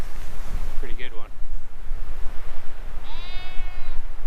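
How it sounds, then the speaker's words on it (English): Sheep bleat twice in the open Welsh mountains by a tarn on Cadair Idris, one call early and a longer one later, both fairly distant over strong gusting wind. "The soundtrack of some sheep."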